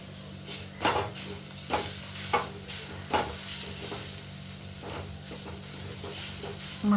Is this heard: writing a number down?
no